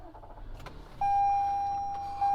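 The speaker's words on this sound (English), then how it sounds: "Starting this vehicle is a breeze. Just put your foot on the brake, push the power button," A 2021 Toyota Highlander XSE started with its push power button: a few faint cabin clicks, then a steady electronic chime tone begins and holds for over a second, with a second tone joining at the end.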